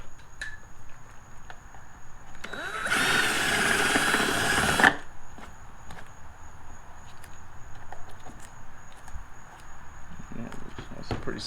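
A power drill with a drill bit boring a hole during an aftermarket part install on a 2017 Camaro SS 1LE, one loud sustained whir of about two seconds set among quieter handling noises and light clatter.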